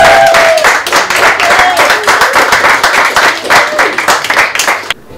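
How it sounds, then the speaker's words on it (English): A small film crew claps together at the wrap of a shoot, dense close handclaps with a few cheering voices, stopping abruptly near the end. "Can we have a special round of applause for Dave?"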